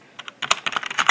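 A web address being typed on a computer keyboard: a quick run of light, close key clicks, sparse at first and then a rapid burst.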